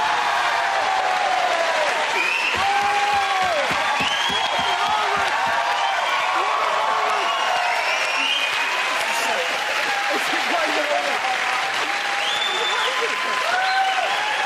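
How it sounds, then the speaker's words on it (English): Studio audience at a British comedy panel show taping breaks into sustained loud applause with cheers and whoops, dense clapping filling the whole stretch and voices calling out over it. "Everyone clap, Agent."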